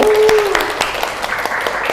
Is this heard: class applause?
yes